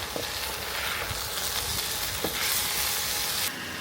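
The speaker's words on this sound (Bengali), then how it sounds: "সেই মশলাতে একটু চাল ভাজতেছি" Rice grains frying in spiced masala for a crocodile biryani, a dense close sizzle with scraping stirs and occasional clinks, loud and continuous.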